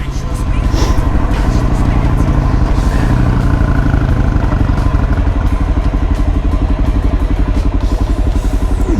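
A Honda CRF 125F dirt bike's small engine chugs steadily at a close, loud idle with a rapid rhythmic putter and some mechanical clatter, while a person talks over it.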